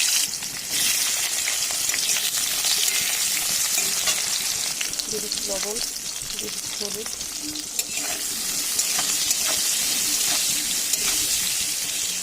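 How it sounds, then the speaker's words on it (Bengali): Eggplant pieces fry in hot oil with a steady crackling sizzle, occasional stirring scrapes, and someone talking briefly over it. "ভালো করে বেগুনগুলোকে একটু ভেজে নেবো আমি।"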